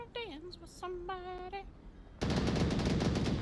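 Rapid gunfire bursts from a match of the VR shooter Onward crackle loud and sustained, following earlier tonal beeps and chirps from the game.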